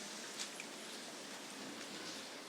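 Rain pours onto a house rooftop on a rainy day, a steady, dense hiss of falling water with a few sharper drop taps, fairly quiet and continuous with no talking.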